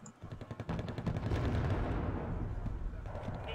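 Rapid rattling gunfire from a mechanized deck in the Wargame AirLand Battle strategy game, a quick run of sharp cracks building into a sustained rumbling barrage, with a voice faintly underneath.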